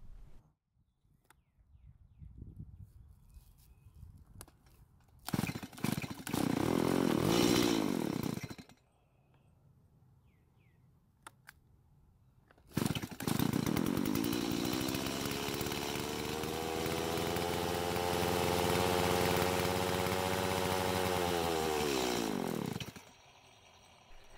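Stihl MS170 chainsaw running after a carburetor service, starting with a short burst, then after a pause revving up and settling into a long, loud, steady idle before cutting off.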